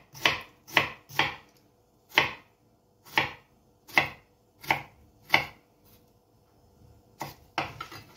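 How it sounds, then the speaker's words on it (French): Red onion and spring onion being finely chopped with a knife on a board, about ten crisp, separate cuts in a loose rhythm, close and clear with quiet pauses between. "on va ciseler notre oignon"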